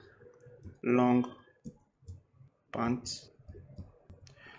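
Computer keyboard keys click in quick, soft bursts while a person speaks over them.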